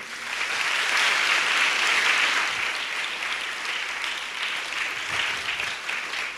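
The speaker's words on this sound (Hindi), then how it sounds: "अपने लिए ताली बजा लीजिए।" An audience clapping together at a spiritual gathering, a loud, dense, continuous round of applause that swells early, then settles into a steady, slightly softer patter throughout.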